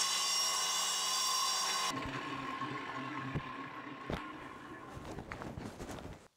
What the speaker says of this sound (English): I've got a 5-inch here with a slitting blade because the 9-inch diamond tip is flogged out